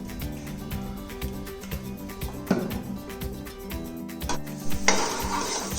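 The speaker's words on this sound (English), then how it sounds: "this garlic is getting roasted" Garlic roasting in hot olive oil in a pot, a steady soft sizzle under repeated clinking and scraping as a utensil stirs against the metal, with a brighter hiss rising near the end.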